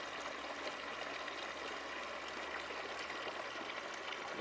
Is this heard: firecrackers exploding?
no